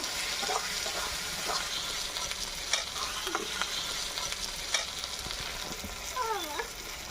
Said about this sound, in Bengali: জিরে, ধনে আর শুকনো লঙ্কা বাটাটাও দিয়ে দেবো। দিয়ে একটু নাড়াচাড়া করে নেব।